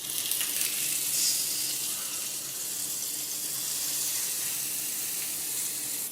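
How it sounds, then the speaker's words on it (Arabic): Beef tenderloin sizzles in a hot pan with butter, an even, continuous high hiss that holds steady throughout, with no talking. "نجيب بقى حته البيف تندرلوين اللي هي اصلا بتدوب في ايدي ونحطها في الطاسه"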